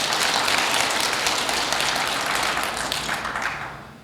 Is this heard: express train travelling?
no